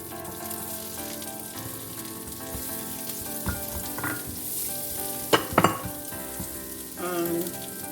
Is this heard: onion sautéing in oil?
yes